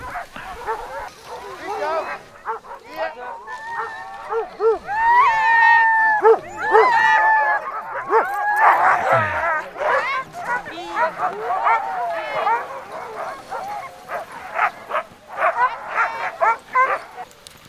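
Husky sled dogs bark, yip and howl excitedly as a team departs on an alpine dog-sledding trip, a loud, overlapping chorus carrying on throughout while people talk and call out over it.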